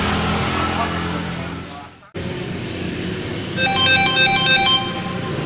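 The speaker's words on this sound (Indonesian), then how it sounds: "Waduh, dasar telepon." A phone ringtone chirps in a rapid electronic pattern for about a second, over loud steady vehicle and road noise.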